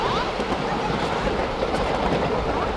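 Railway train in motion, a steady, dense rumble with rolling wheel clatter that stays loud and even throughout, with no clear voices.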